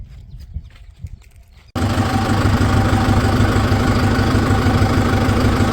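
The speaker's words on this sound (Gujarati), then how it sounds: "અને હવે હું ટ્રેક્ટર ચાલુ કરું કેટલી મિનિટમાં લીટર ડીઝલ થાય જોવાનું છે" A four-by-four diesel tractor engine starts and settles into a loud, steady idle, its low throbbing rumble filling the rest of the moment after some quieter knocking and handling noises.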